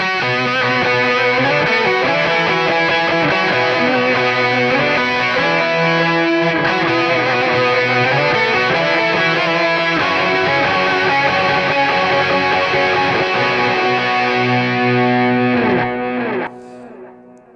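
A heavily distorted electric guitar through a Quad Cortex plays a dense, gritty riff continuously for a long stretch, loud and up front, before cutting off.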